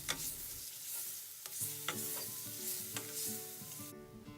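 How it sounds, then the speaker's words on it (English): Curry paste with minced garlic and ginger sizzles steadily in a saucepan for a coconut chicken curry, with a few sharp clanks of a utensil against the pan over the continuous frying hiss. "I'm throwing in the minced garlic and ginger with that and just heating it up all over the pan"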